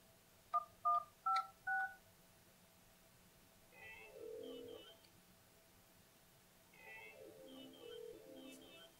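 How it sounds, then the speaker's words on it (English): An Alcatel-Lucent 8018 desk phone dials with four short, clean keypad tones in quick succession, then a quiet interval, then softer warbling tones from the line, heard up close without talk. "So I'll dial that now."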